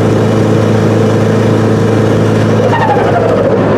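A tuned, turbocharged car engine pulls under high load at low RPM, a loud, steady close-up drone with a rising tone near the end as boost builds.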